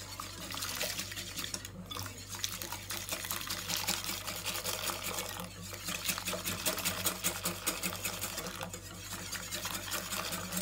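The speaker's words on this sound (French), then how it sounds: "Et après, je vais ajouter le lait." Milk is poured into a pan for a crustless flan pâtissier thickened with cornstarch, a steady close liquid rush running the whole time alongside faint stirring, with a low constant hum underneath.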